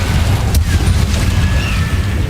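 Incendio spell cast in Hogwarts Legacy: one sharp crack bursts out early, with fainter thuds and thin whistling streaks following over a steady, boomy low rumble.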